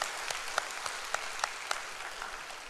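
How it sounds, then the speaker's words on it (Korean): A church congregation applauds to welcome newcomers during a Sunday service: dense, steady clapping throughout with a few sharper individual claps standing out, and no talking. "박수로 환영합니다."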